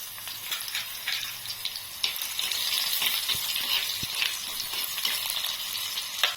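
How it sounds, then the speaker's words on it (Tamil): Chopped raw mango sizzling in hot coconut oil in a pan for a fish meal, a steady close frying crackle with occasional stirring clinks, louder from midway, no talk. "அப்புறம் நம்ம நறுக்கி வச்சிருக்க இந்த மாங்காயை இதில் சேர்த்துக்கலாங்க."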